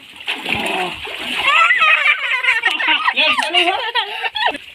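Someone jumps into well water with a loud, close splash, followed by sloshing water mixed with giggling and excited children's voices.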